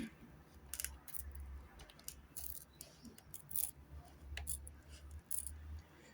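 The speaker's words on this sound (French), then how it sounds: "Plus ces ciseaux, ils coupent tellement bien." Scissors snip through paper in a quiet indoor craft session, a string of sharp, irregular crisp cuts and clicks close to the microphone with a low background hum.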